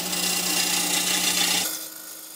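A turning tool cuts the outside of a wooden bowl blank spinning on a lathe, giving a loud, continuous rasping scrape close by that stops abruptly, leaving the lathe's softer hum.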